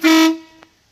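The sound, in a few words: custom horn honking on 1979 International Harvester Scout Traveler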